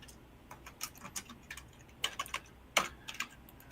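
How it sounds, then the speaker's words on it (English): Keys clatter on a computer keyboard in quick, irregular bursts of clicks, close and fairly quiet, with no voices. "keyboards knocking away"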